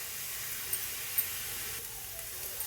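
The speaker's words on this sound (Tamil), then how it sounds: "நெய்யில் இது மாதிரி வதக்கி விட்டாலே போதும்" Mashed ingredients for a sweet sauté in ghee in a pan, giving a steady soft sizzling hiss broken by a few small pops.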